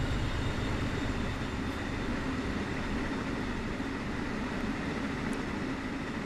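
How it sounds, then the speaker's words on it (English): A massive train in the Train Sim World 5 video game on the Long Island run from Penn Station to Montauk, a steady low rumble of rolling cars and wheels, continuous and even, with no talk. "this is still a massive train"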